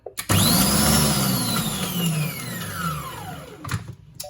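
A Monsieur Cuisine Connect food processor whirs loudly on turbo while chopping two garlic cloves, a sustained motor whine that slowly falls in pitch over a few seconds before cutting off, with no voices.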